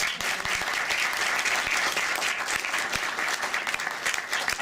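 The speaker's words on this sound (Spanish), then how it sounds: "Damos un aplauso." A room audience applauding at a USAP 2018 event honoring Dr Zahra Tavassoli Zea, with dense, steady clapping that lasts the whole stretch and no talk over it.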